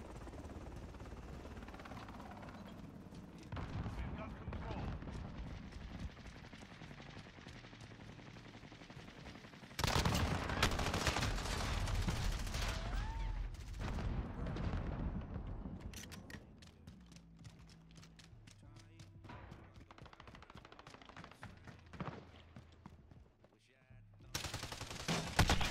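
Bursts of automatic gunfire in a shooter video game, sharp rapid volleys cracking out repeatedly amid engine-like rumble, louder in the middle and near the end, with a voice talking over parts of it.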